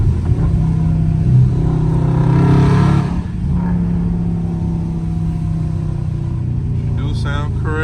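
A loud Dodge Charger Scat Pack driving in the rain, a steady deep engine drone with a brief rise in revs, heard from inside the car under continuous talking.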